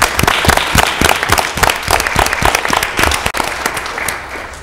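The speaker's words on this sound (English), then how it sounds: "Let's give them, all of them again, a big round of applause." At a city council meeting, the chamber audience gives students and their advisors a round of applause: crisp, individually audible claps in an even rhythm, loud and close before tapering off at the end.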